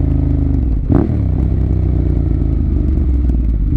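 Steady idling engine of a 2014 Ducati Monster 1200S motorcycle, close and loud, with a low rumbling drone and a brief clattering rise near the first second before settling back to idle.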